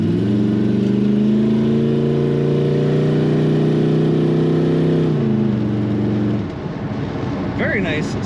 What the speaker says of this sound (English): Very nice, smooth running engine with great throttle response and good power